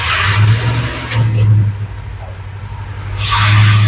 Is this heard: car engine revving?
yes